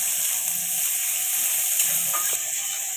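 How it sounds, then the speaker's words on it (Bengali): Onions fry in a pan over a high gas flame, giving a loud, continuous bright sizzle with a few faint stirring clicks underneath. "এর মধ্যে আমি পেঁয়াজ দিচ্ছি, গ্যাসটা আমি হাই দিচ্ছি।"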